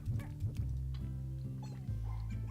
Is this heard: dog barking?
yes